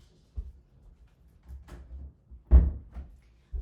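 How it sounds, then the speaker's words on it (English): An office door is pushed shut at home, giving a soft thud with a louder clunk near the end, set among faint shuffling in an otherwise quiet room. "I'm gonna close the door real quick to my office."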